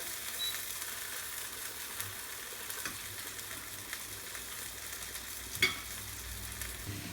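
Vada being stirred and fried in a pan on low heat, a steady soft sizzle of hot oil throughout with faint scraping stirs and one sharper clink near the end.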